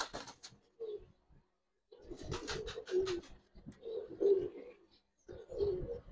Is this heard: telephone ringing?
no